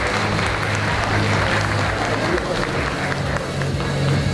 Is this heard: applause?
yes